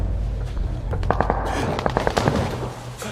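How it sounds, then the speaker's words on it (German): A rapid cluster of sharp gunshot cracks, several in quick succession, ringing out at a moderate distance over a low background rumble. "Die Schüsse kommen aus dem Dorf."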